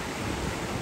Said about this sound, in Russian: Купаться сегодня запрещено, потому что волны очень сильные